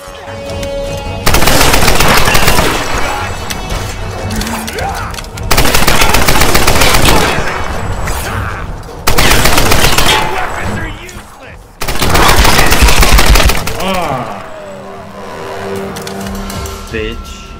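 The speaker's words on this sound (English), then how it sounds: "I got an assault rifle." Assault rifle fire in the action game Tomb Raider comes in four loud, sustained automatic bursts separated by short pauses, with a voice talking over the shooting.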